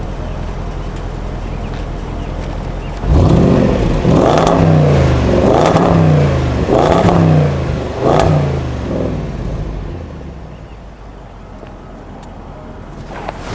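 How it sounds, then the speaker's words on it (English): A supercharged 5-liter V8 in a 2014 Range Rover Sport roars through four strong, deep revs in quick succession, each climbing and falling back, before settling to a steady idle that gradually quiets. "You guys want some revs of this thing? 2014 Range Rover Sport, supercharged 5-liter V8, 500 horsepower."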